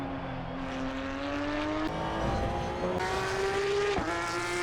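A race car engine in the video game Assetto Corsa Evo drones steadily and moderately loud, its pitch climbing through gears with brief shift drops, heard alone without talk.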